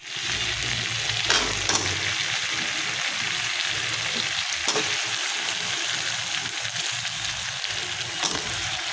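Oil fries ground ginger, garlic, cumin and dried chilli paste in a pan, a steady close hiss and sizzle with a few brief clatters of stirring over it.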